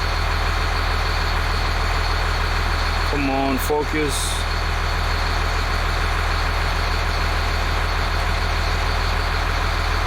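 A school bus engine idles steadily and loudly throughout, a constant low drone, with a brief voice speaking over it near the start.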